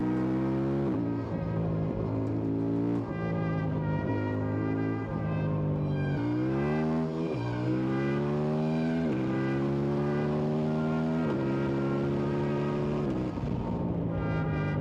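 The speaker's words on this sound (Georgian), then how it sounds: "ოღონდ რამე უნდა ვიაროთ ისეთი მოტოციკლით რომელსაც აი ესეთი ხმა აქვს რა" A CFMOTO NK800 Advance motorcycle ridden at night drones close and loud, its engine note climbing and dropping through several gear changes and then holding a steady cruise.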